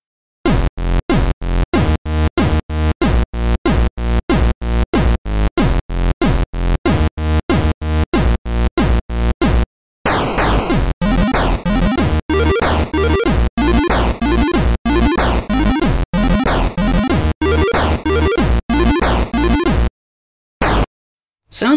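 An 8-bit chiptune rendition plays loud in the OpenMPT tracker using two channels: a rapid, evenly pulsing square-wave pattern first, then a busier buzzing melodic run with sliding pitches, ending in a few clipped bursts.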